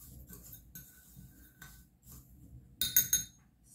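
An Epsom salt bath blend with lavender and mandarin is stirred with a utensil: soft scraping and gritty shuffling, then a brief cluster of bright clinks against the container near the end.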